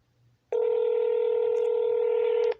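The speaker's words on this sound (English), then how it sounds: "So the first call, they immediately hung up, and now it's just ringing." A telephone tone on a call line sounds as one steady, loud electronic tone lasting about two seconds, with no voices over it.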